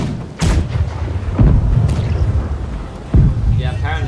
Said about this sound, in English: Side cannons fire.